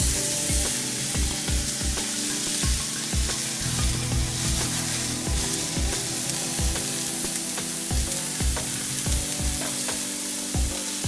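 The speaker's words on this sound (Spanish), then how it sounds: "Vamos a ponerlo en un sartén ya caliente." Filet mignon, seasoned with salt and pepper and already oiled, searing in a hot pan, a loud continuous sizzle with a regular series of soft low thumps throughout, no talking.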